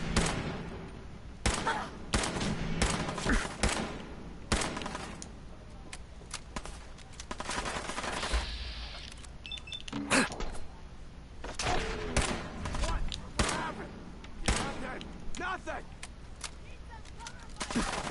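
Pipe pistol gunfire in the video game Fallout 4, a series of sharp loud shots in irregular bursts mixed with game effects and footsteps over continuous background music.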